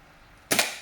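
A single sharp shot from a CM355 long shotgun during test firing, loud and close with a brief double crack and a short ringing decay.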